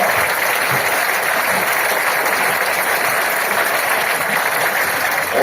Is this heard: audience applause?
yes